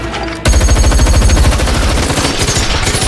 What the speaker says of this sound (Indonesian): Aksi tembak-menembak antara perampok dan petugas keamanan tidak terhindarkan.